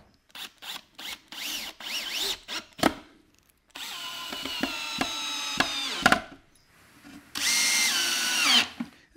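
Power drill driving screws at an angle into the wooden box of a 10-frame Langstroth beehive: short staccato trigger bursts first, then two longer high whining runs as screws bite into the timber, loud and close with no talk.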